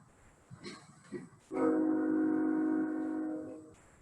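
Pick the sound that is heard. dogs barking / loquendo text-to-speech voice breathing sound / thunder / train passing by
train passing by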